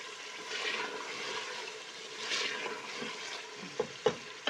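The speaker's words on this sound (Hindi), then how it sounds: "ये हमारी दुम्बे की गोश्त की भुनाई हो रही है।" Lamb karahi meat sizzles steadily in a hot wok during bhunai, a continuous close frying hiss that swells and eases, with a few sharp scrapes of a stirring spoon near the end.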